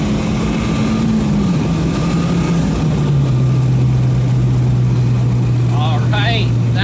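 A Mazdaspeed 3 engine under load holding about 20 pounds of boost, a steady loud drone that gradually drops in pitch as the car pulls through third gear, with someone speaking briefly near the end.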